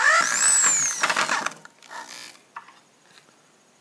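A power drill whirs and rises in pitch briefly while driving a self-tapping screw into wood, then stops, followed by a few quiet ratcheting clicks and handling sounds.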